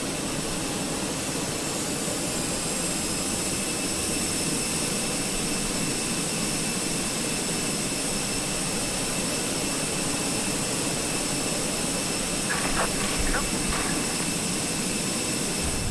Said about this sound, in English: External power is disconnected, engine mode goes into ignition.